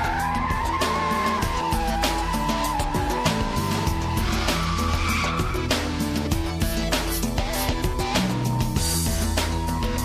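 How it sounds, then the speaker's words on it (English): A car power slides around a long, wide circle, its tires squealing and skidding continuously over a loud, steady engine roar, close and unbroken for the whole stretch. "Once you've perfected the power sliding technique in a long, big, wide circle"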